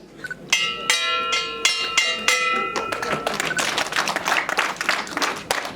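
Wedding guests break into clapping that builds into dense, lively applause, following a few sharp ringing taps at the start with music-like tones under it.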